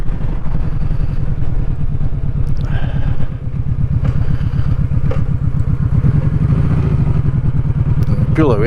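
A Vulcan Vaquero motorcycle pulls away in second gear and chugs around a corner with a steady, low, loud engine rumble throughout. A rider talks over it.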